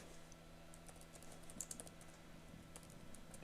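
Steady typing on a computer keyboard, a run of soft, close key taps over a constant low electrical hum, with no voices.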